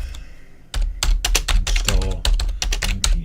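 Typing on a computer keyboard while entering a command line, a steady patter of close, crisp key clicks in quick irregular runs, with a single spoken word briefly over it.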